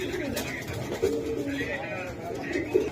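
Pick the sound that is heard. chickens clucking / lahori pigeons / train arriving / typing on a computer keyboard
lahori pigeons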